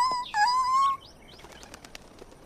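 Birds in an animated pony cartoon show flutter back with a burst of flapping wings and bright chirps, followed by scattered light tweets and soft wing flutters fading into quiet ambience.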